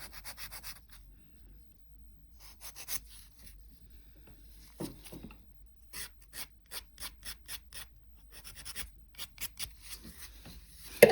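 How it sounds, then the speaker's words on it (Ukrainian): A nail file rasps along the sides of an extended fingernail in short, repeated strokes, with pauses between, then a steady run of quick back-and-forth scrapes, close and crisp. "Я проходжусь ще пилкою по бокових паралелях, вирівнюю собі нігтик."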